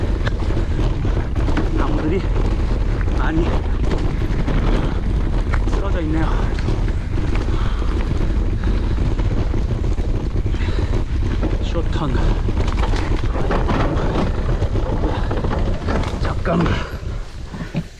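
Wind roars constantly into the microphone during a mountain bike ride on a hardtail on a mountain trail, a loud, unbroken buffeting rumble that blankets everything, with a voice faintly under it.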